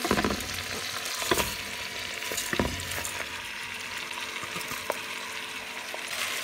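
Meat and rice stirred together in a pot for a quick curry rice with vegetables, a steady sizzle with scraping stir strokes and occasional clinks, close and alone without talk.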